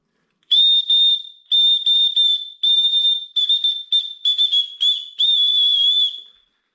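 A safety whistle from a trail running kit sounds in a series of loud, close, shrill blasts, some long and steady, others short and choppy, with a few brief gaps and no talking.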